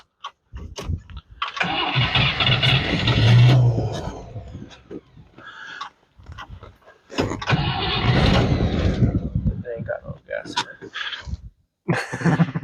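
A drag-racing car engine cranks repeatedly without catching, with two long grinding bursts of starter churn separated by pauses, close and loud, as people talk around it.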